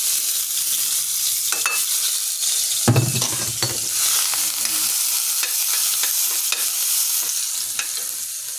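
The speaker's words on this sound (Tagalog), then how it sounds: "Iulog po natin sibuyas, bawang." Onion and garlic are tossed into a hot pan and sauté with a loud, steady sizzle, and a few clinks of a stirring utensil ring out over the continuous frying hiss.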